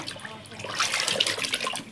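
Running water splashes steadily, a broad hissing flow like a tap, as about 3 kg of fish are rinsed, with no talking.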